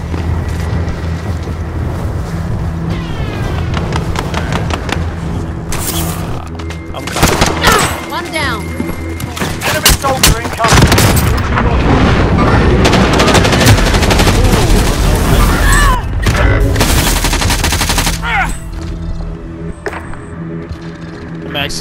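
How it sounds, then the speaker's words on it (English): A video game firefight with dense bursts of automatic gunfire and single shots, loud and continuous, heavy in places, with players talking over the shooting. "Max is getting shot by people right now, bro."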